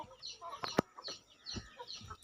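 A native rooster gives a few soft, short clucks in quick succession, close by and quiet, with no other sounds around.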